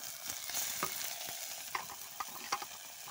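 Wild asvale flower greens hit a hot pan with salt, turmeric and chili, then get stirred while frying. A soft, steady sizzle runs throughout, broken by scattered scraping taps of the spoon.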